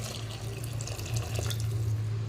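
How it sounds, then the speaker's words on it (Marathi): Boiled hot water is poured into a pot of cooking black-masala khichdi, a steady close splashing pour without any speech. "गरम उकळलेलं पाणी घालते आहे"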